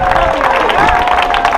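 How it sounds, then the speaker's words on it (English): Outdoor crowd at a beach-town swim and paddle event in Imperial Beach, loud clapping and cheering with voices mixed in and a sustained whistle-like tone. "let's give a round of applause for IB"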